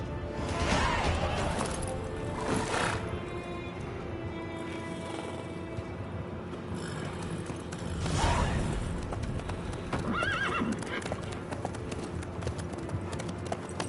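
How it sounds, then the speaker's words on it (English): Horse hooves clip-clopping at a steady walking rhythm in the video game The Witcher 3, continuous and close, with creaking tack and occasional louder thuds. "Clip clop, clip clop, clip clop."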